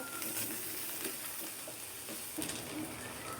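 Fried rice with magic masala and chopped coriander frying on low heat on a stove, giving a quiet, continuous sizzle and hiss with faint stirring scrapes.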